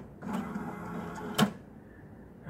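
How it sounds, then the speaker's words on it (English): A steady mechanical whirring hum of the small printer on a Criterion II urinalysis analyzer, with a sharp click partway through and a quieter hum after. "And now it's gonna print it"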